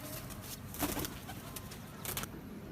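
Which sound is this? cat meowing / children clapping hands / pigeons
pigeons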